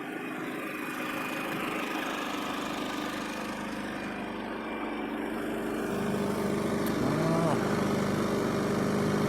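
An RV generator engine keeps running with its gas valve shut off, giving a steady mid-pitched hum that grows slightly louder toward the end.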